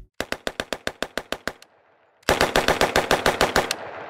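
Recorded gunfire rings out in two rapid automatic bursts, each a string of sharp, loud, evenly spaced shots, separated by a short quiet gap.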